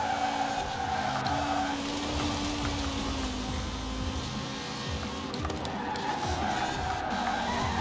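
Rally cars, an Audi Quattro and a Lancia 037, racing in Forza Horizon 4, with tires squealing in a long skid and spin amid steady engine roar, loud and continuous, with no voices.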